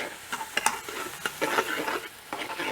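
Vegetables for a creamy tomato soup sauté in a pot, with soft sizzling and repeated scraping stirs of a utensil in a quiet kitchen.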